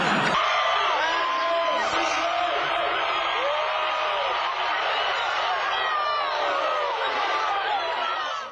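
A crowd at a live political event reacts together, a dense, continuous roar of mixed laughter, jeers and shouts with pitch-sliding yells rising over the mass, loud and sustained throughout.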